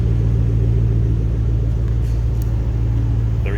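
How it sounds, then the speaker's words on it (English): A supercharged 2007 Ford Mustang Roush 427R convertible idles and revs with a loud, steady low engine rumble and a faint high whine over it, close and alone with no talk. "that supercharger and a little whine, these things under throttle, they will get up and go"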